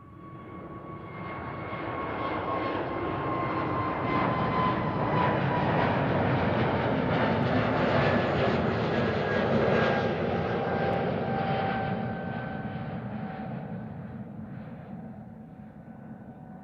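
An airliner takes off at Amsterdam Schiphol Airport, its jet roar building to a loud sustained peak and then fading as it climbs away, with a steady engine whine running through it and no talk.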